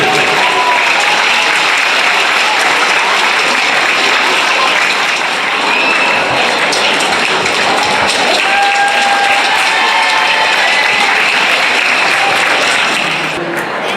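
Sustained, loud applause from an audience at a school event in Kothamangalam honouring national-level student athletes and their coaches, steady dense clapping throughout with faint crowd murmur.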